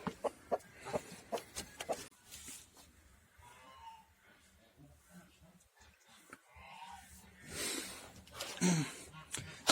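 A broody hen, sitting on a nest, gives a run of short, close clucks, with a louder, rougher burst of clucking near the end and a quieter, softer stretch in between.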